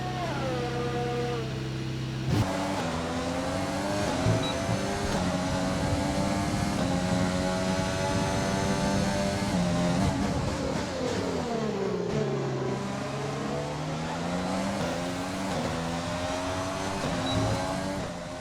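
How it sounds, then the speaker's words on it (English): Race car engine from a racing video game running steadily, its harmonic whine rising and falling as revs change, loud and continuous with no talk. "Engine fired, we're set."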